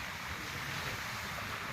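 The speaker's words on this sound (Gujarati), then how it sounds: "આ ઠંડો પવન એટલો મસ્ત આવે છે કે મજા આવે છે" Cool sea breeze blowing steadily across Dwarka beach, a continuous broadband wind rush with surf-like noise, no voices.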